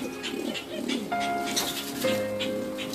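Nicobar pigeon giving low cooing calls, several short coos close by with some background noise and faint higher chirps; no speech.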